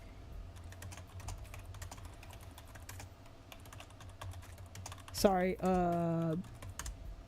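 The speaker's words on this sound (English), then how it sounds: "listen to me typing and getting crazy again here." Fast, irregular clicking of typing on a computer keyboard patters close by for several seconds, then a voice breaks in briefly near the end.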